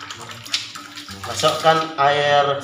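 Tamarind water mixed with salt poured into a heated wok, a continuous splashing, gurgling pour with bubbling that grows fuller toward the end, close and fairly loud.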